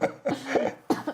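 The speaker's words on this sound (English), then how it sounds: "and now I'm coughing." Several harsh coughs in a short burst, close by, with brief gaps between them.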